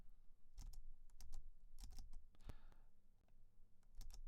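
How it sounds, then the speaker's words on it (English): Clacky typing on a loud computer keyboard, irregular bursts of sharp key clicks with short pauses between, close by and fairly quiet overall, no voices. "And my keyboard's super loud."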